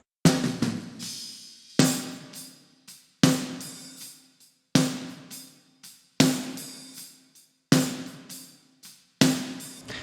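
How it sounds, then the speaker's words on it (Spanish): Poorly recorded drum kit with the snare drenched in exaggerated reverb, hit in a steady pattern of sharp cracks with long washy tails, plus lighter hits between, close and alone. "una reverb bastante exagerada porque quiero que se la sienta,"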